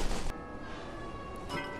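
Bells rung by players, a faint struck tone with a sustained ringing decay that fades before a second soft strike near the end.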